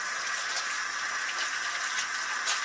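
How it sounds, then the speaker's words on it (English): Steady rush of tap water running into a sink while hands are washed, a continuous close hiss with no talking. "wash my hands"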